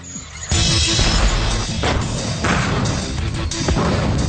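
An anti-tank mine is set off under an Aardvark mine-clearing vehicle: a sudden heavy thud gives way to a loud, sustained rumbling roar with repeated dull impacts.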